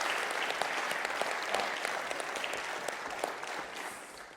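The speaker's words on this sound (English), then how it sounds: "A round of applause for our guest." Applause from a live talk show audience, a continuous wash of many hands clapping that stays even before easing slightly toward the end, heard at a distance and fairly quiet.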